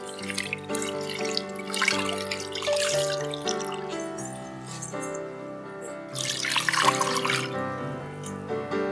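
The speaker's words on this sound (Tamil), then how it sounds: "தண்ணி ஊற்றுவோம்" Water pours close by into a bowl while making Muscoth halwa, with a splashing, ringing trickle that swells twice and keeps flowing.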